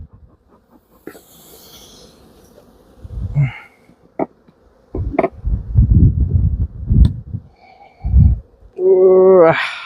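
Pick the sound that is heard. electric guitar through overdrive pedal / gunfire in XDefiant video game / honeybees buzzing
honeybees buzzing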